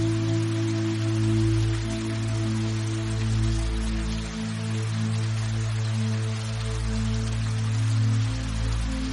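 Steady rain falls near an old mansion, a constant close patter over a low, droning hum that holds without a break.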